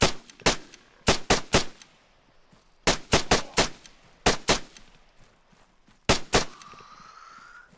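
Gunfire from a weapon in the ArmA 3 video game, set in the Ravage mod: sharp shots in bursts of two to four, separated by short pauses, with a faint tone ringing at the end.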